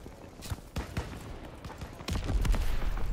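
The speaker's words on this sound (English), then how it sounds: "flak cannon again, the small one." Rapid flak cannon fire in a Call of Duty WWII team deathmatch on the Flak Tower map comes as sharp, scattered bangs. A heavier burst of firing arrives near the end.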